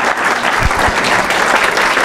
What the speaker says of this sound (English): Please join me in warmly welcoming Professor Smith to our campus today.